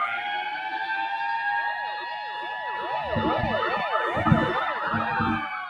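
Emergency rescue vehicle siren from a volunteer rescue squad responding to an alarm near Dayton, wailing at moderate distance in a steady rising and falling cycle, growing fuller and louder toward the end with no talk over it.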